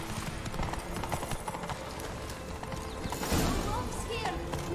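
The horse Roach galloping in the video game The Witcher 3: Wild Hunt, Blood and Wine, with rapid rhythmic hoofbeats, close and steady, over a game ambience and voices speaking.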